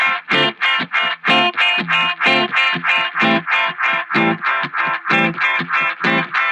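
Grainy transmitter-style echo from a delay effect with the feedback turned high, a dense run of repeating guitar notes stacking into a continuous, warbling, distorted wash that stays loud throughout.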